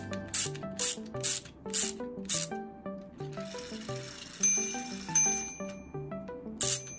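Minute repeater watch mechanism striking its chimes, a series of bright metallic tings in a quick rhythmic sequence, then a softer whirring stretch with scattered tones and a final strike, close and clear.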